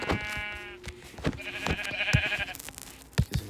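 Sheep in the Minecraft video game bleat in two wavering calls, mixed with sharp hit and footstep sounds of gameplay, close and moderately loud.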